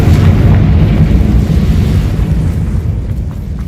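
A Confringo fire spell explodes in the Hogwarts Legacy video game, a loud, deep, rumbling blast that swells at once and rolls on with a slowly fading roar, no voices over it.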